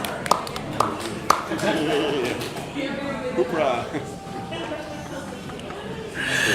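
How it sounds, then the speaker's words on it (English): A packed crowd at the AGP 2025 Melbourne final roars and applauds after a goal, a dense, steady wash of cheering and clapping with a few sharp claps standing out, under continuous commentator talk. "the crowd is going wild."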